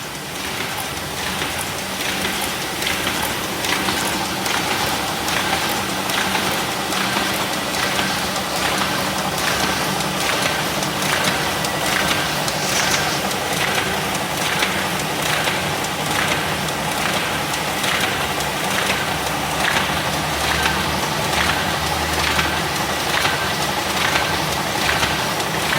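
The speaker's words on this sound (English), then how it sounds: "4 buckles, 2 knives, 16 pages folding machine, imported from Europe with side buckle" A SHOEI SPK 74 Combi 16-page paper folding machine with four buckles, two knives and a side buckle runs steadily, a dense, even mechanical clatter with rapid rhythmic ticking pulses repeating throughout, close and loud with no talking.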